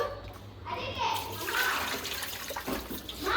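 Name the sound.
washing fish in water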